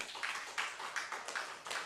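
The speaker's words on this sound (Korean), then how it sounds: "자, 하나님께 영광의 박수 돌리겠습니다." Church congregation clapping at a Korean revival service, a steady run of moderately loud claps with a roughly even rhythm over a couple of seconds.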